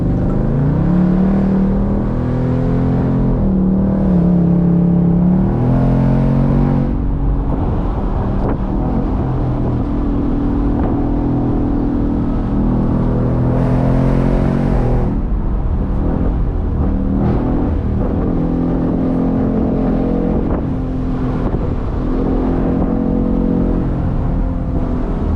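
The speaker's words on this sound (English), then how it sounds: "let's open up this car going up the mountain a little bit" A 2024 Ford Mustang GT Convertible with a 500 hp V8 climbs a mountain road, its engine droning loudly and steadily with pitch steps like gear changes, wind noise underneath and no talking.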